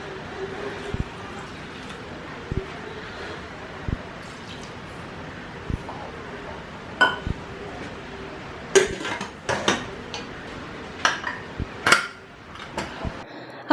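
Sharp metallic clinks and knocks of a spoon and vessel sound as marinated beef and water go into a pressure cooker in a home kitchen, sparse at first and then quicker, clustered clatters.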